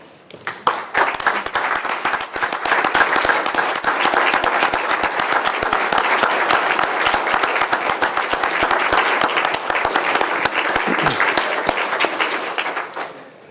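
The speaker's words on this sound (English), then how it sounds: "I'm going to ask them to stand with me with a standing ovation for your time as council president" A city council chamber crowd giving a standing ovation, with loud, sustained applause and dense clapping from many people that rises quickly and holds steady for over twelve seconds before tapering off.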